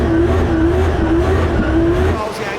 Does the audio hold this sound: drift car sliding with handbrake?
yes